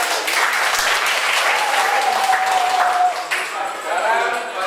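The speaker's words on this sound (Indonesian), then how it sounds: "Tepuk tangan." An audience at a website-building workshop in Padang breaks into loud, steady applause, dense clapping sustained throughout with a faint tonal whistle and murmuring voices underneath.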